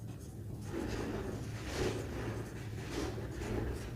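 Handwritten notes being scratched out during a Hindi maths lesson on probability, a steady continuous scraping that swells and fades in short strokes, fairly close with no voice over it.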